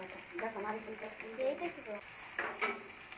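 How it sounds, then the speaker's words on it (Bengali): Spice paste mixed with ground coconut paste sizzles and fries in a pan while being stirred, a steady close crackle with soft scraping throughout, and a voice speaking faintly over it. "মশলাগুলোকে আমি একটু নাড়াচাড়া করে নিলাম পরে আমি ওই যে নারিকেল বাটাটা দিয়ে দিলাম"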